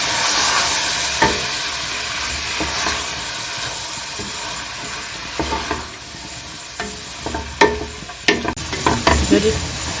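Chicken and vegetable chow mein, just splashed with vinegar, is stirred and tossed in a hot pan, giving a steady sizzle with scraping and clattering utensil strokes that grow busier toward the end.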